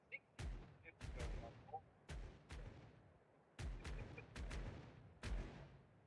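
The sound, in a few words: ship cannons firing a broadside in video game Caribbean Legend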